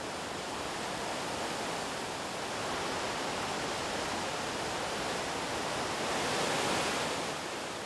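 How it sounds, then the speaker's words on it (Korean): A geyser in the Kronotsky reserve, Kamchatka, spouts hot spring water with a continuous loud rushing roar, like heavy surf or a waterfall, swelling slightly toward the end with no voices. "크로노츠키 자연보호구역 내 대표적인 간헐천인 달리나 게제로브. 이곳에선 4시간마다 한 번씩 온천수를 뿜어낸다."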